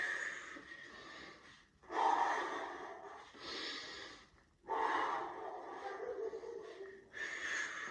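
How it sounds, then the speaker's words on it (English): Rhythmic breathing during a workout cool-down, drawn in through the nose and pushed out through the mouth, with several close, loud breath cycles in a steady rhythm and no talking. "Breathing through the nose, out through the mouth."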